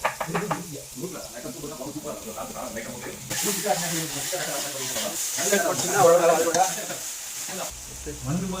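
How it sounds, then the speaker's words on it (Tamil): Ginger garlic paste sizzles and spits in a hot pan while it is stirred, with a steady frying hiss throughout. A voice talks over the cooking. "இஞ்சி பேஸ்ட் ஓரளவுக்கு நல்லா வதங்கிருச்சு"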